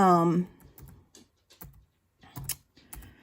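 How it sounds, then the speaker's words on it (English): Fingers tap on a computer keyboard in short irregular bursts of close, crisp clicks, with a brief spoken voice at the start before the keystrokes continue alone. "I have to type in this"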